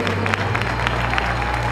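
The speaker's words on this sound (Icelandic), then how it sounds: "Og svona klappa fyrir þeim." Spectators at an Icelandic horse show clap for riders, a steady patter of applause mixed with crowd murmur and a low background hum throughout.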